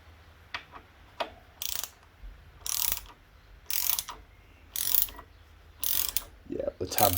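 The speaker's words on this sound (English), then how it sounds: "And we're still set on the torque wrench" Torque wrench ratcheting as it tightens bolts on a Honda CB750 K2 motorcycle: six or seven short bursts of rapid clicking in a steady rhythm, close and fairly loud in a quiet workshop, with no talk.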